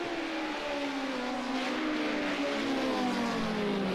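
A 1973 BMW 2002 race car engine in the video game Project Cars 2 holds a steady, loud drone as it climbs gradually in pitch through the gears, continuous and close.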